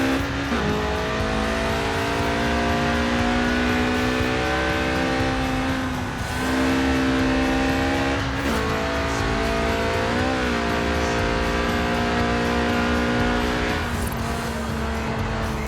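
A Lotus Elise Sport 190, a stripped-out track-day roadster with a mid-mounted engine and rear-wheel drive, drives in the racing game Forza Horizon 4: a loud, steady engine drone whose pitch climbs and dips through gear changes, with faint tire squeal.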